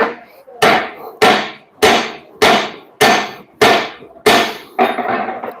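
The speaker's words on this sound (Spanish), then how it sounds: "Martillamos." Eight sharp, evenly spaced hammer strikes on the main leaf spring pack of a Nissan MT 3000 truck, each a loud metallic impact with a short ringing decay, coming roughly every half second with no talking.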